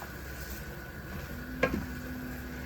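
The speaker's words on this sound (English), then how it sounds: "Yeah, then you just mix." Coconut bean stew getting mixed in a pot, a soft steady kitchen hiss with one brief stirring scrape and a light clink near the middle, no voices.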